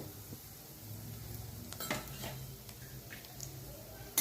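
Grated coconut being stirred and roasted in a pan for Hyderabadi baingan masala, with soft scraping and light clinks of a spoon against the pan over a faint low background, one louder knock at the end.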